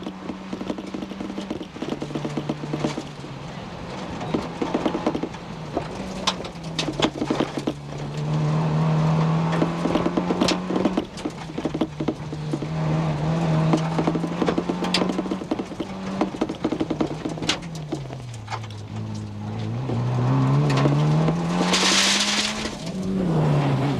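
A Toyota rally car, rebuilt after a crash, drives a stage of the 1994 Ulster Rally. The engine note rises and falls steadily through repeated gear changes with no one talking, and it ends in a final hard climbing rev.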